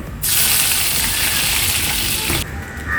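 Curry leaves dropped into hot oil after mustard seeds burst into a loud, close sizzle that holds steady for about two seconds, then drops away to a quieter bubbling fry.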